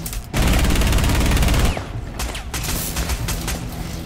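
Loud, dense automatic gunfire from a Rainbow Six Siege team deathmatch on the Yacht map, a sustained close burst of rapid shots that cuts off and gives way to scattered, quieter shots and clatter.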